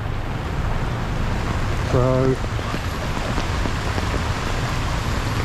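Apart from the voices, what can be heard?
rain on a flooded street in Pattaya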